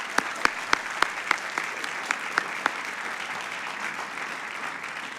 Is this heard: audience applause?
yes